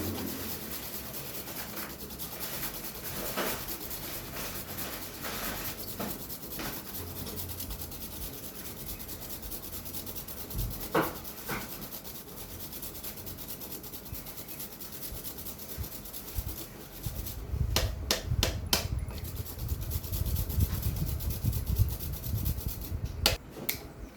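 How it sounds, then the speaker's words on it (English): A small piece of fresh ginger being grated for Trinidadian punch de noix, with a scratchy rasping of repeated strokes that grows louder and more rapid toward the end. "I'll grate just a small piece of ginger in here as well."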